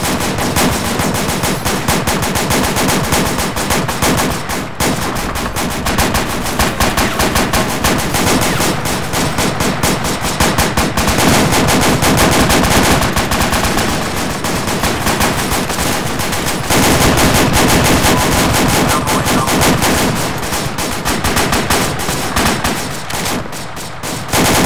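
Sustained suppressive machine gun fire in the military video game Arma 2, loud and continuous bursts of automatic gunfire layered with scattered shots, filling the whole stretch with barely any pause.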